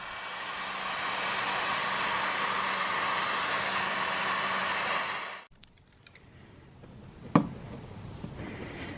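A heat gun blows a constant, even hiss of hot air onto a snow blower's fuel line near a Tecumseh engine, then switches off abruptly, leaving faint clicks and a sharp knock in a quiet room.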